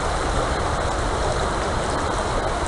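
River water rushing in a steady, dense broadband wash, close and loud, continuous throughout with no talking.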